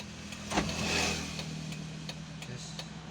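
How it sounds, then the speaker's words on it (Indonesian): A 2001 Toyota Kijang Krista engine cranks briefly and catches, then settles into a steady low idle hum with faint ticking over it. "nyalakan kontak atau nyalakan mesin"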